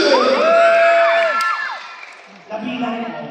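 Crowd cheering and applauding for Skastaki, with loud shouting and whoops from children and adults, voices fading and then a second burst of clapping and cheers.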